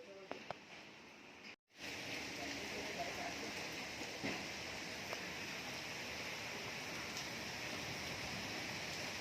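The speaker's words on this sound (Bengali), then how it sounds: "বুঝতে পারছো কীরকম বৃষ্টি হচ্ছে," Heavy rain pours steadily outside a house, a dense continuous hiss after a few clicks and a brief dropout at the start, fairly faint throughout.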